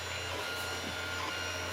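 A 3D printer prints a vacuum foot for a router, giving a steady mechanical hum with a constant low drone and faint stepper whine, close and unbroken throughout.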